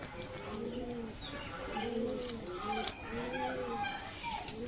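Green pigeons kept for sale coo in a steady series of soft, rounded, repeated calls, fairly close, with a brief sharp click near the middle and a low hum underneath.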